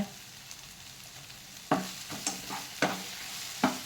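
Onion and tomato chutney ingredients with salt and jaggery are stirred in a frying pan: a soft background sizzle broken by four or five distinct, sharp spatula scrapes in the second half, close and with no talk.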